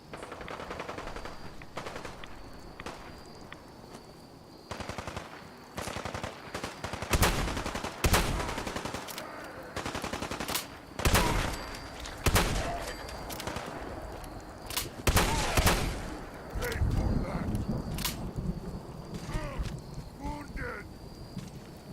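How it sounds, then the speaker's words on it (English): Gunfire in the video game Fallout 4, rapid bursts and repeated shots in a hectic firefight, loud and continuous across the scene with speech mixed in. "Who's doing the shooting?"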